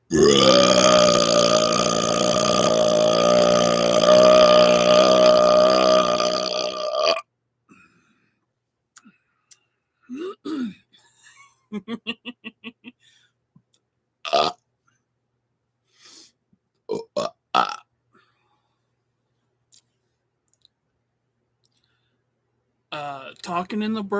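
A long, loud, tonal burp stretching several seconds, followed by quiet clicks, short mouth sounds and brief vocal bursts, with a voice briefly heard near the end.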